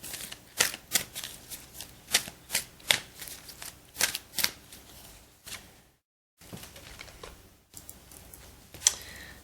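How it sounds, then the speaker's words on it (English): Cards handled from a Law of Attraction oracle deck: a run of crisp, close riffling and flicking bursts, fairly quiet, with a short pause before more shuffling snaps, and no talking. "Now I'll just take one of the Law of Attraction cards from Abraham Hicks."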